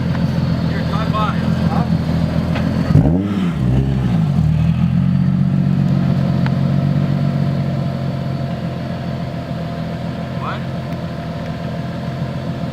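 A Volkswagen engine repeatedly revving against a two-step launch limiter, the popping bursts rising and falling up close, with people talking over it.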